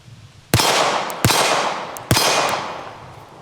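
Three loud, sharp gunshots from a 9mm carry pistol, spaced irregularly about a second apart, each a sharp crack with a ringing decay.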